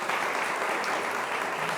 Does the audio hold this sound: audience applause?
yes